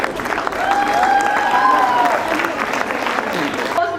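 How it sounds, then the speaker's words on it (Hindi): Audience applause at an intercollegiate sports fest prize announcement, a steady, moderately loud wash of clapping lasting throughout with some crowd noise and a tonal whistle-like sound rising over it. "तालियां भी तो बजाओ यार।"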